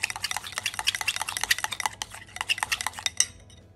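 Jam being mixed briskly in a bowl with a utensil, rapid close clinking and scraping strokes in a dense irregular rhythm, fairly loud and alone.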